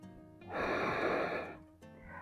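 A breath is let out through the mouth during a strong yoga posture in a spine-stretching and balance session, one long broad noisy exhale swelling and fading over about a second, close and fairly soft, with no talk.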